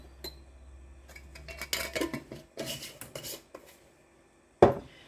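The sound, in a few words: spoon stirring cornstarch into onion powder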